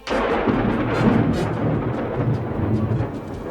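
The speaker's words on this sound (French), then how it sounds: "si on restait un peu pour écouter l'orage" Low, continuous rumbling like distant thunder rolling through a thunderstorm, with a steady wash of noise that could be rain.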